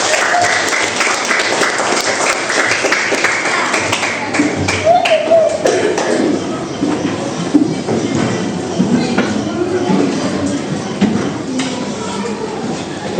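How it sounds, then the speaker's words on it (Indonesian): A classroom of students applauding after a coding lesson, a burst of dense clapping under and around a teacher's talk, fairly loud and close, tapering into scattered claps. "kasih tepuk tangan lagi."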